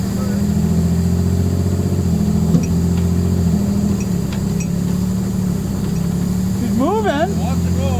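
An old big rig truck engine idles with a steady deep rumble on a cold start while the driver tries to shift into gear. A voice is heard briefly over the engine.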